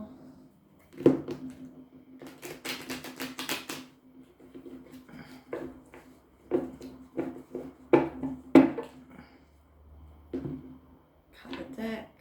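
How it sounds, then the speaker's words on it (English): Tarot cards riffle and slap together in a close shuffle, one dense burst early on and then sharp scattered taps and flutters, while someone speaks nearby. "One last shuffle."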